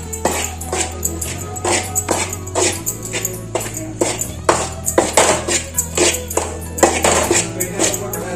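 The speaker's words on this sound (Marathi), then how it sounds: "आता हे मी भाजते पीठ." Flour roasting in a pan for Ganesh Chaturthi festival sweets, with a spoon repeatedly scraping and knocking against the metal pan in a steady, loud, clattering rhythm and a low hum underneath.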